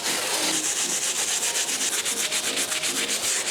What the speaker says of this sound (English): I'm gonna be very careful around the text as to not scrub that off, because this is the most abrasive brush that we have